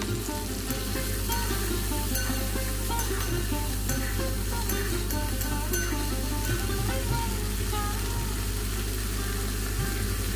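Spice paste hits hot oil with whole cumin seeds, giving a steady, loud sizzle over a low constant hum, with stirring scrapes throughout.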